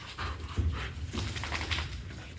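Police K-9 unit dog panting steadily in close, rapid breaths, with a few louder huffs and slight whimpering tones, loud and continuous without talk.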